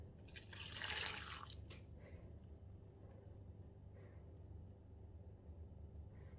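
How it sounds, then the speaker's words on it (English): Beef stock pours into a pot for pumpkin soup, a brief splashing gush near the start that tapers into faint drips and low background rumble. "I'm going to put the stock in here."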